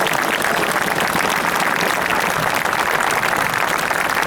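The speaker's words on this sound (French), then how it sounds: "Je vous demande de les applaudir très fort." Loud, dense crowd applause for parachutists landing at Sainte-Mère-Église during D-Day 75 commemorations, a continuous outdoor wash of clapping with no break.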